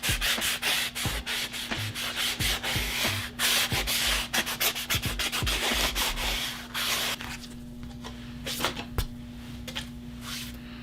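Fine 1000-grit sandpaper rubs back and forth over a leather edge in quick, repeated strokes, a close scratchy sanding that thins out toward the end.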